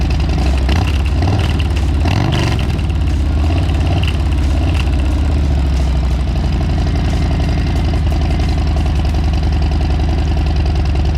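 Harley-Davidson motorcycle fitted with a Stealth exhaust idles after a cold start, a loud, steady low rumbling lope with a brief blip of throttle early on, running alone without talk.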